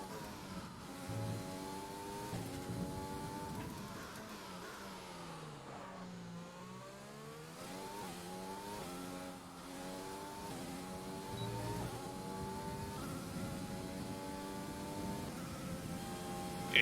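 Mercedes race car engine in a racing video game played on a Fanatec wheel, revving steadily and shifting through gears with rising and falling pitch sweeps, a continuous close drone throughout.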